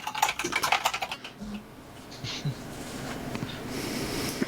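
A computer keyboard is hammered in a fast, clacky flurry of close keystrokes that trails off into quieter scattered taps over a low hiss.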